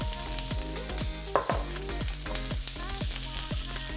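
Onions sizzle steadily in canola oil on a hot griddle, a constant close crackle that runs the whole time under tonal background music, with one brief louder burst partway through.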